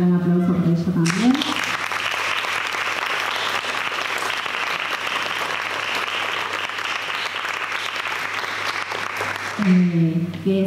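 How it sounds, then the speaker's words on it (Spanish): Sustained audience applause at a teacher-training institute gathering, a broad even clatter of many hands lasting most of the stretch, with a speaking voice briefly before and after it. "que le pido un gran aplauso por ello también"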